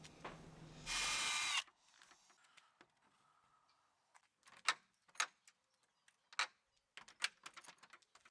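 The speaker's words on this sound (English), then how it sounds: "drill out the hole for the handle spindle" A power drill bores a hole for a gate handle spindle in a short, loud whirring burst of under a second, followed by quiet, scattered knocks and clicks of handling nearby.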